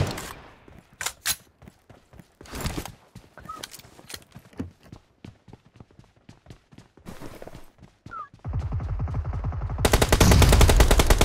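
Machine gun fire sounds in sharp bursts of rapid, cracking shots with irregular gaps between them. It builds into a dense, loud, sustained burst of automatic fire toward the end.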